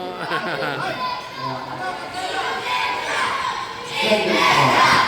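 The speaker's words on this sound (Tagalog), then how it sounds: "Sigawan na sila." A crowd shouts and chatters throughout a school basketball championship game at an elementary area meet, a dense, loud roar of many voices that swells toward the end.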